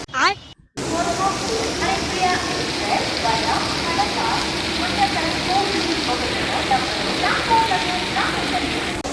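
Steady rain falls hard around a train at a railway station platform, a dense continuous hiss close by, with a few faint chirps and knocks in the background.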